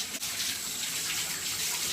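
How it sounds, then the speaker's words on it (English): Water runs from a bathroom tap as a hand is rinsed, with a steady broadband hiss that stays close and moderately loud from start to end and has no talk over it. "Excuse the water running."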